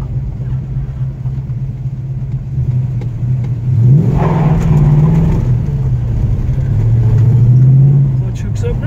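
A 1968 Plymouth GTX with a four-speed manual rumbles steadily while driving, its engine note rising into a louder rev in the middle and swelling again near the end, with a person talking over it.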